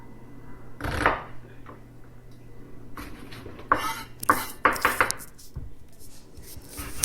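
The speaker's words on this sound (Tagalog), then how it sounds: "Kahit anong klaseng hiwa ng sibuyas, okay lang." Knife blade striking a cutting board while slicing onion for a stir fry with sardines, a few sharp separate chops and clatters spread across the clip at close range, with quiet kitchen background between them and no talking.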